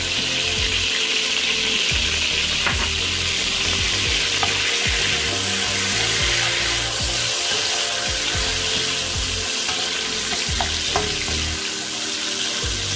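Garlic sizzles and crackles steadily in hot blended sesame oil in a pan, with occasional soft clinks and scraping from stirring.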